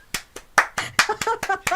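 Clapping on a political commentary show, a handful of close, uneven hand claps that speed up toward the end, with faint voiced sounds mixed in between.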